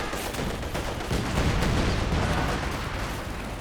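Artillery fire in Company of Heroes 2, a dense rumbling wash of overlapping booms and gunfire that stays loud and continuous throughout the stretch.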